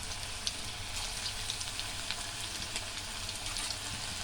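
Chicken kabab pieces fry in hot oil with a steady, even sizzle and scattered tiny pops, holding at a constant close level throughout with no voices.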